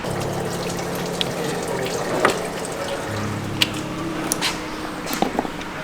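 Water sprays steadily over the engine bay of a BMW M6 with a V10 engine, a continuous hissing wash with a few sharp spatters and drips, moderately close and without talk.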